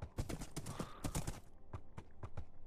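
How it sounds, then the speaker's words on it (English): Horse hooves clip-clop in the Minecraft video game, a quick run of sharp, close hoofbeats that slows into a steadier, evenly spaced rhythm, heard on its own without talk. "come on, horse, in you go, Bubkus, you naughty boy."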